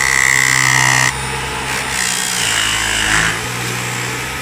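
A Dyson V11 Absolute cordless vacuum, reported as broken, running on high power: a loud, close, continuous motor whine that drops in pitch and shifts as the load changes, with no speech.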